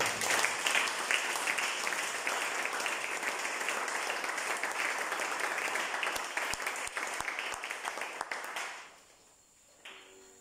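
A church congregation applauding during a worship service, dense sustained clapping from many people filling the space for about nine seconds before fading out into quiet.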